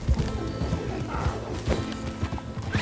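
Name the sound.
horse galloping in video game Red Dead Redemption 2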